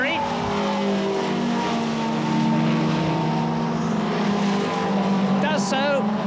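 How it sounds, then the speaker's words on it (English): The Ford Sierra Cosworth and BMW M3 touring cars race in the 1989 British Touring Car Championship through the Club and Stowe corners. Several engines drone together in a steady, high, shifting whine, with a voice faintly audible over the noise. "The leader in his Ford Sierra Cosworth, catching the BMW M3s."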